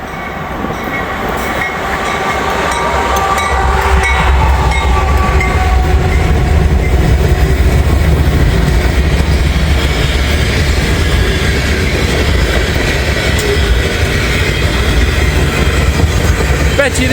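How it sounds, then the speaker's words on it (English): Southbound freight train of full tank cars and grain hoppers rolling past on track 1: a loud, close, continuous roar of wheels and cars with rhythmic clatter, building over the first seconds and then sustained throughout. "we got us a southbound coming down track 1 here"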